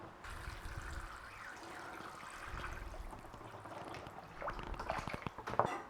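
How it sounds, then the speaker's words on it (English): Water pours and trickles steadily into a pot of roasted chicken for stock, quiet at first and then growing louder and more splashy toward the end. "Fill it with water to a couple of inches above."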